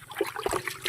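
Water splashes and trickles onto grass and eggplants in a vegetable garden while plants are watered, a brief, soft, uneven patter close by.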